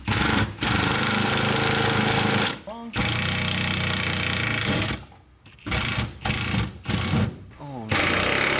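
An impact gun rattles in long loud bursts on a Nissan 240SX during engine and drivetrain work, then in shorter stuttering pulses, with people talking between the bursts.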